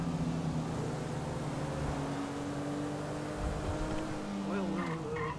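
Engine of a heavily modified Toyota Prius in the video game GTA 5, a steady loud revving drone with shifting pitch, holding throughout with a brief squeal-like rise near the end.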